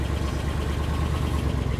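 An old, long-abandoned International pickup truck engine idles steadily up close, a dense, even rumble with a faint knocking texture and no talk over it.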